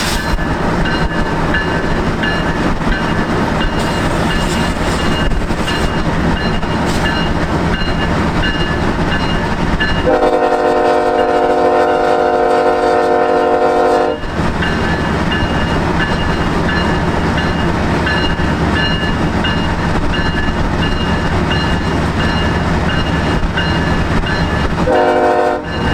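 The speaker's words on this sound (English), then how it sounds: "we will get to hear the engineer blow the horn" A CN freight train led by BNSF locomotives rumbles and clatters past steadily, then its horn blasts loudly for several seconds before the rolling rail noise continues, with a brief second horn note at the end.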